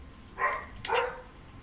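A dog gives two quick, sharp barks in succession, fairly close and clear over a quiet background.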